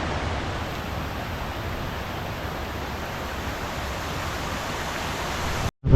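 An alpine waterfall at a river crossing rushes in a steady, broad wash of noise, close and unbroken, before cutting off abruptly at the end.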